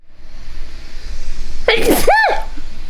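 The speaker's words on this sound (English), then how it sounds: "Sorry, I'm going to sneeze." A single loud, close sneeze with a sharp intake beforehand, bursting out abruptly and then fading.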